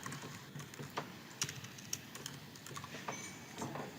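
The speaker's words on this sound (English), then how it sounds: "In this case, I'm typing my name" Quiet typing on a computer keyboard as a name is entered, irregular soft key clicks in short bursts at close range, no talking.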